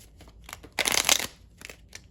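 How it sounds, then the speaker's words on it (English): A deck of cards is shuffled in one quick riffle burst, followed by a few soft card taps and handling sounds. "It's difficult for me to shuffle"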